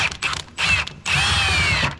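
An 8-10 socket ratchet works bolts on a John Deere Gator 855D during a belt and 250-hour service, making close, loud bursts of rapid clicking and whirring, one short run and then a longer sustained spin.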